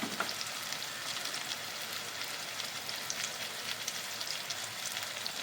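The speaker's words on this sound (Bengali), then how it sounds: "সবজিটা আমার ভাজা হয়ে গেছে" Vegetables for lau fesa fry in a pan with a steady, dense sizzle throughout, close and even, with no voices over it.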